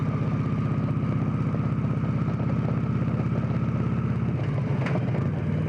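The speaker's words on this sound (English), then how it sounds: "this bike is absolutely wonderful. It rides over these broken roads." Victory Cross Country touring motorcycle riding over broken roads, its steady mid-pitched engine drone continuous and loud throughout, with a shift in tone near the end and light clatter from the rough surface.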